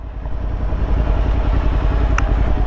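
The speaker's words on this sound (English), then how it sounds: "you're sitting there revving the motor like that" A motorcycle engine runs loud and close with a rapid, throbbing rumble, held at steady revs throughout.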